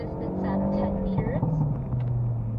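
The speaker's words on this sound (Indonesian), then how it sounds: "ngegas dalam, lepas, biar bisa dengar suara bengnya" A Hyundai Elantra N engine is pushed hard and then let off, the pitch dropping as the throttle closes, with a voice talking over it.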